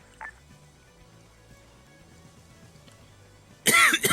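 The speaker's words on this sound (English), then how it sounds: "Sorry about my coughing fits, guys." A man with a cold coughs during an Arma 3 Zeus squad operation: a short faint cough near the start, then a sudden loud burst of coughing at the end, close to the microphone over low background game sound.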